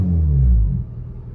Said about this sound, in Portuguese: Mas olha aí, ó, o ronco.